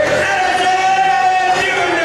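A large basketball crowd fills a high school arena at a girls' playoff game, a steady loud roar of many voices and chatter with no breaks.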